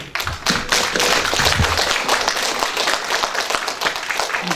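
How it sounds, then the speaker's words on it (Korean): Audience applause at a Korean forum gathering honoring a composer: dense, steady clapping fills the room for the full few seconds, with a few heavier thumps underneath. "큰 박수를 보내드리면서 시작할 겁니다"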